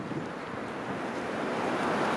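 Steady wind buffeting a microphone on Danforth Avenue in Toronto, a continuous rumbling roar with no gaps, growing slightly louder toward the end, with surf-like noise underneath.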